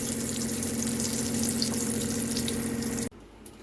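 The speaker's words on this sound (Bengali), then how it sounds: "এরপর ডালটা যে পিস পিস কেটে রেখেছিলাম এটা তেলে ভেজে নেব" Dhoka lentil cake pieces sizzling in mustard oil in a kadai, a steady dense crackle of frying held close and loud, cutting off abruptly near the end.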